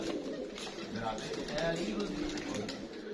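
Pigeons cooing nearby, soft throaty calls mixed with chatter and background talk.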